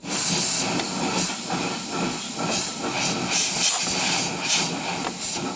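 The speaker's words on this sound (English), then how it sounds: "just take a can of air and just spray it" A sustained, loud hissing spray with a few stronger pulses, compressed air blasting from a can in short bursts onto a Glowforge laser cutter fan.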